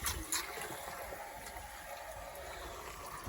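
Water from a garden hose runs steadily into a container at a greenhouse, a constant close hiss and splash with a brief louder gush near the start.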